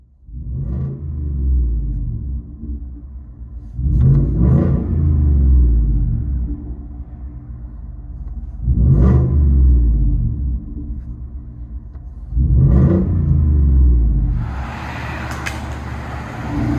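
Inside the cab of a 2018 Ford F-150 5.0L V8 fitted with a Borla ATAK cat-back exhaust, a low droning rumble swells into four loud, booming rev pulls spaced a few seconds apart, with a hissy rustle at the end.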